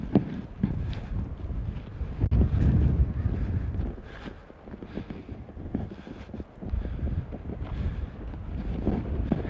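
Gusty wind buffeting a headset microphone outdoors, producing loud low rumbling bursts that rise and fall unevenly, with no other clear sound.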